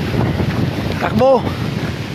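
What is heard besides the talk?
strong wind gusts during storm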